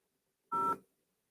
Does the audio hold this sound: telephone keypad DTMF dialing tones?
yes